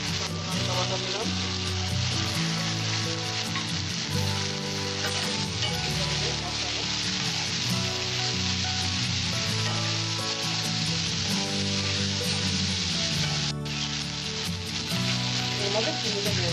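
Chili paste frying in hot oil in a pot for a Bengali-style vegetable dal, giving a steady, loud, continuous sizzle that fills the whole stretch without pause.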